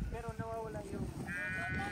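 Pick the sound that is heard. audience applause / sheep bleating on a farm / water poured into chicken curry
sheep bleating on a farm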